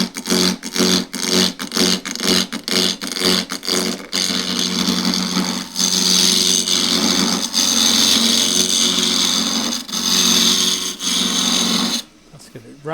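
A wood lathe running at 1500 RPM while a half-inch spindle gouge turns a painted old table leg, starting with rhythmic intermittent cutting bursts that give way to a continuous loud chattering shave, close by with someone talking over it.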